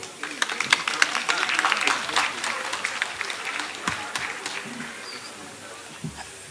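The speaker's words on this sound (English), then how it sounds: "Let's give the Honorable Regional Councillor again a hand of applause" Audience applause at the official opening of a police (NAMPOL) annual sports championship in Keetmanshoop, a dense, steady patter of many hands clapping throughout, moderately loud with scattered crowd noise.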